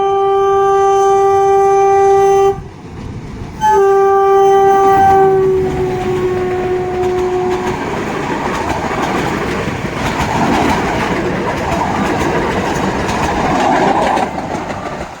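A train horn blares in long steady blasts, then the loud rumble and clatter of a train rolling in close by at a station in the rain, continuing without voices.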